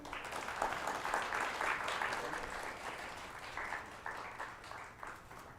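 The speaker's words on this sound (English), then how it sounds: "A big round of applause for him." An audience claps for actor RJ Dhoni at a panel on making sci-fi movies, a moderate, full round of applause that gradually tapers off, with faint voices mixed in.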